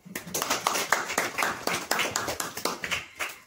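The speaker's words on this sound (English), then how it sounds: "Let's clap for her." Hands clapping in a steady run of distinct claps, fairly quiet and close, from people gathered during a children's cooking show for Independence Day.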